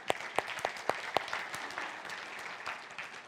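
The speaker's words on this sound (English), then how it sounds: "You can clap for that." Church audience clapping: a handful of distinct, loud claps close by at first, then a softer, thinning patter of applause fading toward the end.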